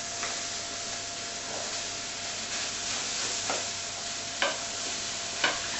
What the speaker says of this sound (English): So in they go, into the pan, and we're just, again, not cooking them all the way through, we're just giving them a little browning.